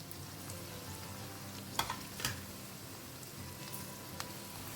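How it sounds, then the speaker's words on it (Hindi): Green chillies and onion sautéing in a pan for a Goan dry clam dish give a soft, steady sizzle, with a few sharper crackles and stirring clinks in the middle and toward the end. "और अब इसे ना 1-2 मिनट के लिए अच्छे से भून लेते हैं।"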